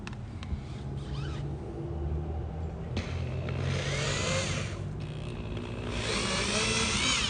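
A power drill bores a hole slightly under 1/4 inch for a kingfisher wall mount, a steady close whirring drone that rises and strains in bursts, alone without talk.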